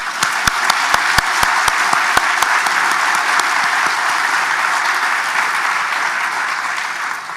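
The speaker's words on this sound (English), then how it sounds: "I think that deserves a round of applause." Sustained audience applause at a sports concussion summit, loud and dense, with a few sharp individual claps standing out near the start before settling into a steady even wash.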